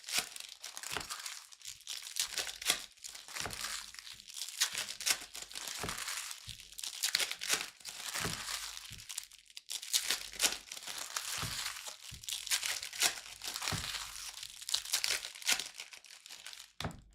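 Foil wrapper of a Topps Chrome basketball card pack being ripped open and crinkled, steady close crackling and tearing bursts running throughout with no talk.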